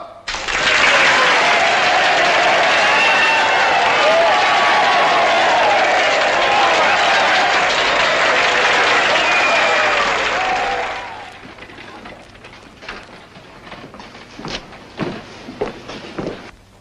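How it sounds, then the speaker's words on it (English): A crowd in a 1949 Western film bursts into loud, dense applause that holds steady for about eleven seconds, then cuts off, leaving a few scattered taps and footsteps. "Applaud!"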